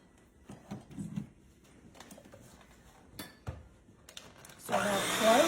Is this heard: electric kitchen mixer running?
yes